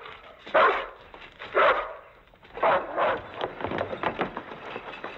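A dog barks several times at close range in a 1958 Western drama film, sharp spaced yelps over a muffled background.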